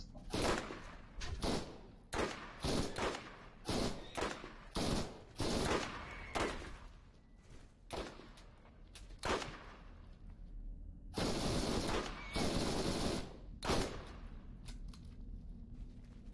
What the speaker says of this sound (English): that was a sniper rifle. Sniper rifle? Yes. Okay. Both were sniper rifles.